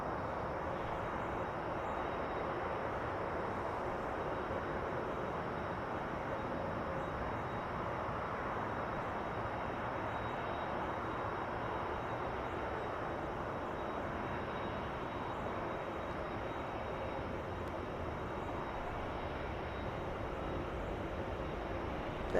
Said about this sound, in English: Lufthansa 452, about to give us an amazing arrival.